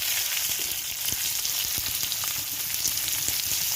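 Onions frying in hot oil for a potato curry, a steady close sizzle with crackling pops running unbroken throughout, with no voices over it.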